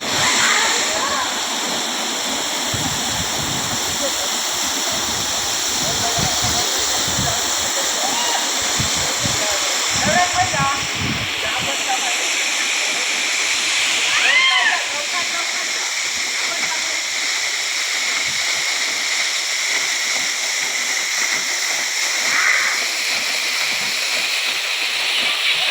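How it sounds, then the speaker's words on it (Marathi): A waterfall at the Harkul Khurd dam in Konkan pours in a steady, loud, continuous roar, with faint voices and splashing sometimes rising above the rushing water. "वाऱ्यान पाणी पडतं."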